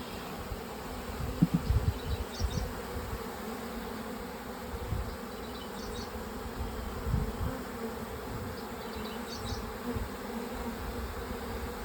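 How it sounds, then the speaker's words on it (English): A honeybee swarm hums steadily in a dense buzzing drone while being transferred into a hive, with occasional nearby knocks and rustles over the constant insect sound. "It's a pretty good sized swarm, I'd say."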